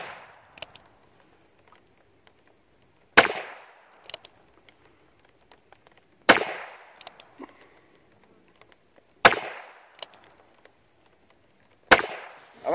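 Ruger Wrangler revolver shots fired at targets on a range: five sharp, loud reports spaced roughly three seconds apart, each trailed by a brief echo and faint clatter.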